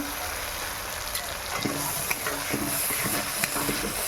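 Mustard and poppy seed paste with green chilli and chili powder fries in a pan, giving a steady close hiss broken by a few soft stirring scrapes near the end.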